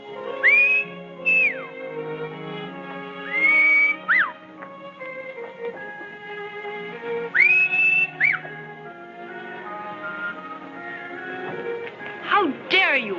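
Loud, sliding whistled calls rise and fall in a few bursts over orchestral music in the western film The Arizona Kid.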